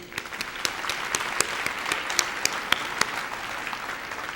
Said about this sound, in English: Please join me again in applauding my fellow trustees.